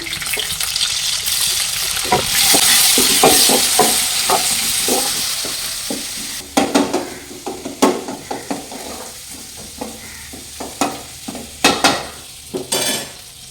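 Crushed garlic and small shallots sizzle in hot oil for a village-style fish curry, a steady loud hiss broken by repeated clinks and scrapes of a spoon stirring in the pan, with no talking.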